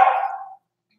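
A puppy gives one short, sharp bark, close and loud, that fades quickly into silence.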